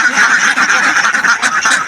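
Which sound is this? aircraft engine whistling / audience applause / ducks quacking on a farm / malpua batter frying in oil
ducks quacking on a farm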